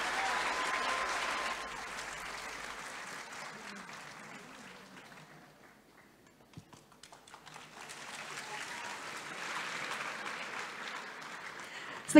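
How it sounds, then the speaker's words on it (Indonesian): Loud audience applause for a choir at a conference opening plenary that fades out midway, then swells again into a second burst of clapping. "Sekali lagi tepuk tangannya untuk LSPR Choir."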